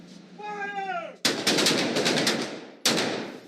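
Gunshots at a shooting range, a loud close burst of rapid shots and then one more sharp blast, with a brief tonal sound just before the firing.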